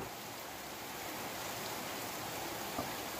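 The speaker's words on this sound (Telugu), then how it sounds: "ఇప్పుడు చూడండి వర్షం, మొత్తం ఫుల్ వర్షం కొడుతుంది" Heavy rain pours down outside a home in a steady, dense hiss that holds at an even level throughout, with no voices over it.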